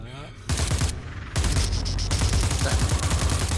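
Rapid bursts from the needle weapon in the sci-fi horror game The Persistence, loud repeated firing in quick clustered volleys over a steady low backdrop, with pauses before fresh bursts.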